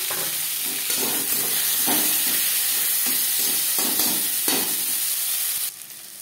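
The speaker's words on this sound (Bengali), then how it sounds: "ফোড়নে দিয়ে দিলাম একটা তেজপাতা, ছোট 1 চামচ গোটা জিরে" Bay leaf and whole cumin seeds frying in hot oil for tempering make a loud, close, continuous sizzle, with rhythmic scraping pulses from stirring until the sizzle drops off near the end.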